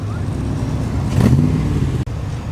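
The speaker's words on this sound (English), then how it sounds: "Replica of the good old AC Cobra." A replica AC Cobra sports car passes close by, its engine note swelling briefly to a loud peak at mid-pass and then fading, with a steady background rumble of other traffic.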